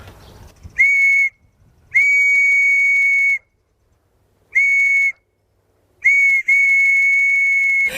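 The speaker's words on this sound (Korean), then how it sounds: "진짜 아무나 못 만드는 수제 호루라기." A shrill, pure handmade whistle sounds in four blasts, some short and some held for over a second, loud and close with silence between.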